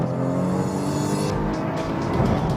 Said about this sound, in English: So as I start to brake, rev matching occurs, as you can hear